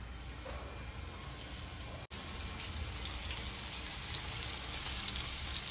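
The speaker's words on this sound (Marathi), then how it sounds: "अरे बघा आता स्नेहा इथे बोंबील फ्राय करते." Bombay duck fish fries in a pan with a faint, even sizzling hiss that carries on steadily, broken once by a brief dropout.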